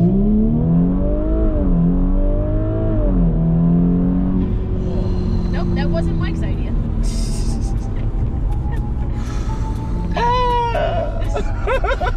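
Tuned Audi B9 S4 with a Unitronic Stage 1+ tune and 454 hp driving past, its engine rising and falling in pitch through revs, heard from outside with steady background roar and some talking.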